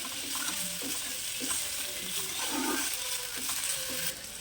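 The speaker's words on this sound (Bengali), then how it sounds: "চিকেনটাকে একটু আমি রান্না করে নেব কালারটা চেঞ্জ হয়ে আসা পর্যন্ত চিকেনের মধ্যে দিয়ে দেবো একটু আদা রসুন বাটা" Chicken with ginger-garlic paste fries in a pan, a close, steady sizzle with scraping stirs and occasional metallic clinks from a utensil, and no voices.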